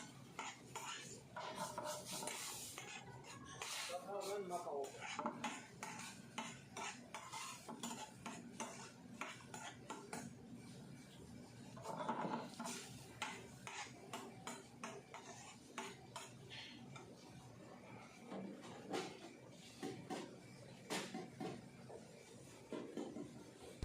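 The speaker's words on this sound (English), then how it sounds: "Continue to stir." Utensil stirring food in a pan while cooking penne pasta, a steady run of scraping clinks and metallic taps repeating for the whole stretch, fairly close and moderate in level, with no talking.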